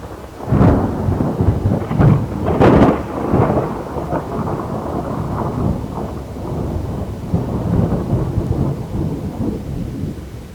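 A violent storm battering a ship at sea: deep rolling thunder with loud cracks near the start, over a steady roar of heavy rain that continues throughout, with no voices.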